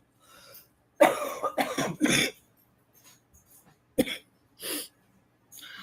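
Several harsh coughs and throat-clearing bursts, close to the microphone, come in clusters with short pauses, then a few softer, isolated coughs.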